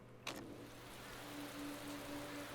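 Steady rain hiss in the F1 2021 racing game, a dense broadband wash that holds throughout alongside a constant car engine drone and a sharp thump near the start.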